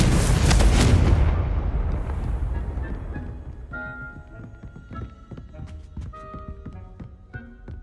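A Confringo explosive spell goes off in Hogwarts Legacy, starting with a loud, close blast whose roar fades over about two seconds. Lighter clinks and magical chimes follow.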